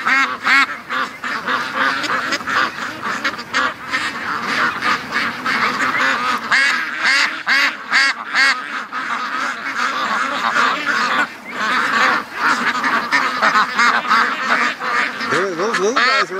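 Free-range ducks quack and honk close by in a busy, overlapping chorus of repeated calls that continues throughout with little pause.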